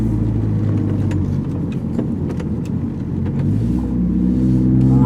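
Cabin view of a 2009-up Mitsubishi Lancer Ralliart, a stock-turbo car fitted with a DC Sports single-exit exhaust, pulling hard under acceleration: a loud, deep engine drone rising in pitch, with light interior rattles on top.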